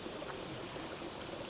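A tiny waterfall on a small stream in the Fort William Highlands of Scotland in rainy weather, giving a steady, close, continuous rushing splash with no talk over it.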